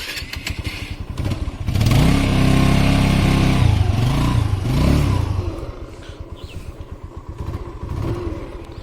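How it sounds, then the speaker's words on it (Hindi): A TVS Apache RTR 160 2V motorcycle engine idles close by, then revs up loudly in a couple of surges before dropping back to a clattery idle, with no speech over it. "इस बाइक का साउंड देखो"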